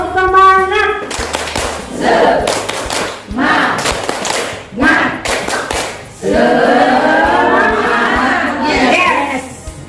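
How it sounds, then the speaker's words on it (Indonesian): A group of people at a teachers' workshop performs the rhythmic clapping chant "tepuk semangat," with bursts of clapping in patterned beats alternating with spoken and chanted voices, ending in a longer stretch of mixed clapping and group voices. "Tepuk semangat."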